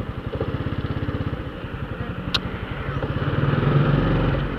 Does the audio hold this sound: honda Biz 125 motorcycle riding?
yes